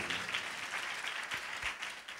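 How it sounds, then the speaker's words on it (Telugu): Church congregation clapping at a Sunday service, a dense, even burst of many hands applauding together, fairly soft and continuous throughout. "చప్పట్లు కొట్టి ఒకసారి"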